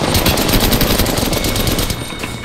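Loud, continuous automatic gunfire in a squad-based shooter video game, a dense rapid stream of shots that carries on almost unbroken and then eases off slightly at the end.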